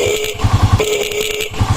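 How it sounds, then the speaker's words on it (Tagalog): A motorcycle horn sounding thin and strained because of a weak battery, two short honks with a brief gap between them, close and fairly loud. "At kahit umandar po itong ating motor, ito po yung tunog ng ating busina."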